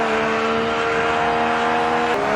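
Rally car at full speed in the onboard cabin on stage 10 of Rajd Rzeszowski, a round of the Eastern European Rally Championship: a steady, loud engine drone with a brief gear-change shift near the end, with no voices.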